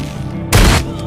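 A single short, loud burst of gunfire from the Dawn of Zombies video game during a raid on a vulture camp, one abrupt blast lasting under half a second.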